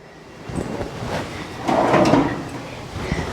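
An RV kitchen storage drawer beneath a residential-style stove and oven slides open and shut, with a soft rolling rumble building through the middle and easing off, close and moderately loud, no talking.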